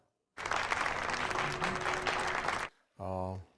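Crowd applause from a courtroom film scene, a dense burst of clapping lasting about two seconds before cutting off, followed by a short voiced sound.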